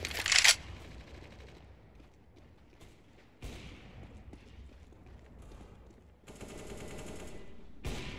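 Gunfire in Counter-Strike: Global Offensive during aim training comes in bursts, with a loud sharp shot at the start, then rapid automatic volleys separated by quieter gaps.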